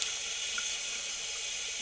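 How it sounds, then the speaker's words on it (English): Water running onto a lather of homemade lye soap, a steady close hiss of flowing liquid with soft bubbly texture throughout and no talking. "if you add a little water to it, look at the bubbles"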